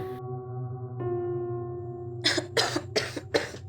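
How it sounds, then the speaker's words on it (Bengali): Four harsh coughs in a dusty, long-shut room break through a steady tonal drone, coming as close, loud bursts spaced evenly over the final second and a half. "ঘরের ভেতর প্রবেশ করেই প্রথমে তার কাশি পেল"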